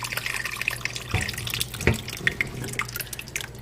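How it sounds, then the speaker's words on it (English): Water splashes and trickles into a pot of homemade chicken stock, close by, with uneven pours and a few clunks of the pot. "I'd add a lot more water to this."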